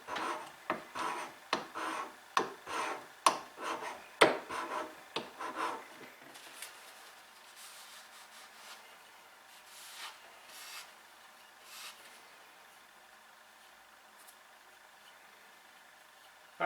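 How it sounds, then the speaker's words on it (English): Steel chisel rubbed flat across a sharpening stone to remove a burr: a run of about a dozen quick rasping strokes in steady rhythm, close and fairly loud, then fainter scattered scrapes and a quiet room. "polish that out on the stone again by dragging it flat across the stone"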